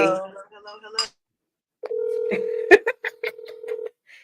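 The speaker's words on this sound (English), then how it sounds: "Listen, I'm gonna call you on the phone." A telephone being dialed to place a call: a steady dial tone followed by a rapid series of short, distinct keypad beeps, preceded by someone speaking briefly.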